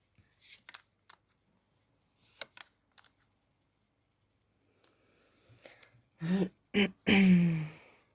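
Soft, scattered clicks and light riffles of cards being shuffled, followed by a few louder, closer flutters near the end, with no talking.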